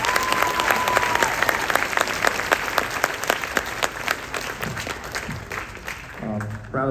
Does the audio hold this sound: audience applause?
yes